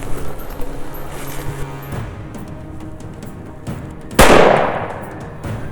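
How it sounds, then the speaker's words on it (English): A single sharp, loud rifle shot fired as an insurance shot into a downed Cape buffalo in Zimbabwe's Save Conservancy, cracking out near the end over quiet outdoor background. "I want you to aim for that patch of mud and put an insurance shot in your own time."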